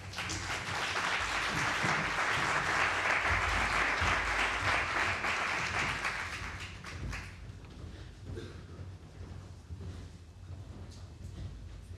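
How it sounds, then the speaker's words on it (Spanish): Loud, sustained audience applause fills a congress hall on employment for people with mental illness, holding steady for about seven seconds before fading into scattered, quieter clapping. "Recibámosles con un caluroso aplauso."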